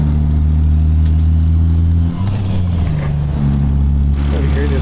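A turbocharged truck in American Truck Simulator roars loudly as it accelerates, its steady engine drone dipping briefly and shifting pitch partway through, with a high whine sweeping above.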